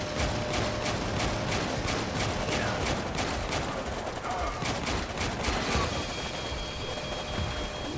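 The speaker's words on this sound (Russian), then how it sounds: "У него же пулемет должен перегреваться там или что-то" An enemy hero's machine gun rattles in the strategy game Warpips, sharp rapid bursts repeating steadily over a dense battle din.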